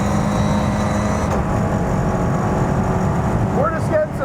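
A Toyota GR86 Cup race car engine idles and warms up at a road course, producing a steady, loud, close low rumble with slight revving variation and a brief high whistle near the end.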